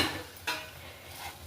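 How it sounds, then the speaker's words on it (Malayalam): Okra (ladies' finger) fries in a pan, giving a soft, steady sizzle. A couple of brief scraping stirs are heard, all quiet and close. "ഇപ്പോൾ ഞാൻ വറുക്കാണ്."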